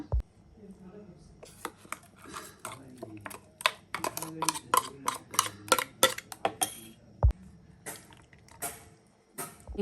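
Repeated sharp clinks and scrapes of a metal spoon scraping curry leaf and mint chutney into a bowl, close and busy, with brief pauses between the strokes.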